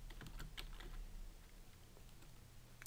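Soft typing on a computer keyboard, a few quick, faint key taps close by in the first second, then a low, quiet room hum.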